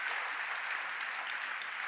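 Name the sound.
congregation applauding in church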